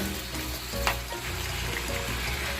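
Carne asada meat fries in a pan over high heat, giving off a steady, even sizzle that carries on without a break, close but moderately quiet.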